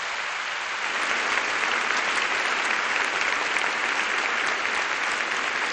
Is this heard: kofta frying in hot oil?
no